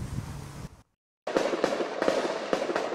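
Heavy gunfire during a police standoff and shootout in a Pittsburgh neighborhood: dense, rapid cracks and bangs in a continuous barrage, broken by a brief silence before the volley resumes.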